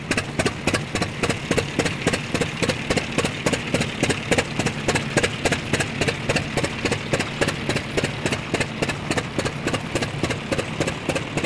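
An old single-cylinder stationary engine at a steam fair chugs steadily at idle, a regular rapid thumping beat that stays loud and even throughout.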